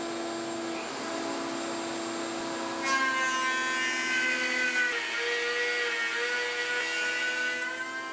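A power tool cuts a tongue into a wooden workpiece for a tongue and groove joint, a loud steady whine and rushing cut sound that rises in pitch and intensity as the wood feeds through.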